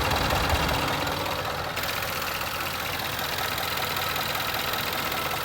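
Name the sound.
2012 Range Rover Sport idling with radiator fan running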